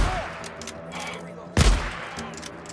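A single sharp pistol shot cracks loudly midway through a stretch of Days Gone video game combat, with quieter background game sounds and faint voices around it.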